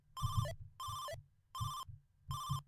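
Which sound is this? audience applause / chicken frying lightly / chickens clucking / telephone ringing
telephone ringing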